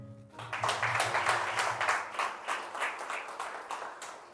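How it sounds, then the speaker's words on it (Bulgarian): Church congregation applauding during a service led by a pastor, a brisk burst of many hands clapping together at moderate distance that swells and then tapers off. "Ръкопляскаме."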